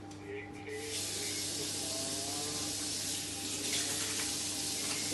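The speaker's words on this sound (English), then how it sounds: "I'm going to wash my hands first" Water runs steadily from a kitchen tap while hands are washed under it, a close, continuous broadband rush that starts within the first second and holds for the rest, with faint talking underneath.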